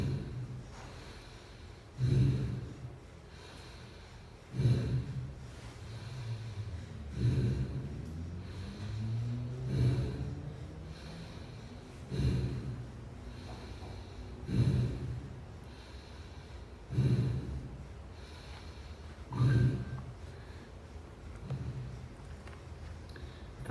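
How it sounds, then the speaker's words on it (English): Rapid, deep breathing during a conscious connected breathing exercise: forceful inhales and exhales repeat roughly every two to three seconds across the whole stretch, close and clear with no talking. "You can even let your body drop on the exhale and lift up on the inhale just to get that wave of energy."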